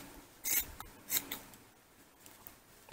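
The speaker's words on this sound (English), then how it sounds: "Now I cut it somewhere here." Scissors snip through fabric for a DIY miniature car seat: a few sharp, close cuts come in quick separate bursts, with soft rustling of cloth between them and no talking.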